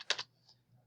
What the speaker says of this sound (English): I'll even type it in here